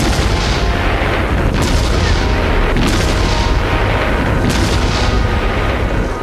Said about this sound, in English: K5 still serve on all fronts, firing their 562-pound shells over 30 miles and packing a mighty punch.